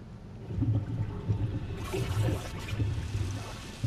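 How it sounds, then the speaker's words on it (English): Rushing, churning water like a toilet flushing in a pump station in the video game A Quiet Place: The Road Ahead, a steady low gurgling wash that swells midway through. "Doesn't it sound like someone's flushing a toilet?"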